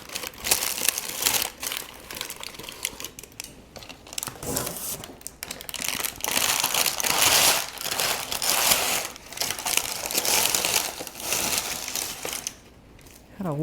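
Parchment paper crinkles and rustles in bursts as freshly baked olive bread is lifted out of Dutch ovens, close and uneven with short pauses between handling noises.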